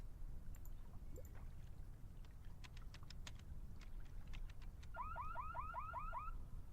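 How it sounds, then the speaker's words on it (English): An alarm in The Longest Journey video game chirps in a rapid run of repeated electronic warbles near the end, after scattered faint clicks and beeps over a steady low hiss. "Why are you messing with the alarm, April?"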